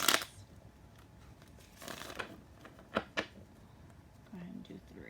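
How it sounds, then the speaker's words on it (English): Oracle cards being shuffled by hand, with a brisk riffling burst at the start and a few shorter card flicks and taps later, close and fairly quiet in a calm room. "Go ahead and shuffle these up a little bit for you."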